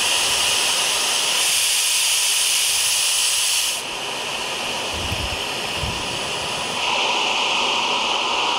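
Steady broadband hiss of an iPhone's balanced-noise background sound, shaped noise that shifts in tone a few times, continuous and fairly loud, with no voices.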